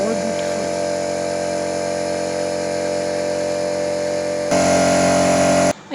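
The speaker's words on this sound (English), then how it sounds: "And now here the other tile is being polished." A tile-polishing machine grinds ceramic tiles in a Pakistani factory with a loud, steady mechanical drone and tonal whine, swelling briefly louder near the end before cutting off.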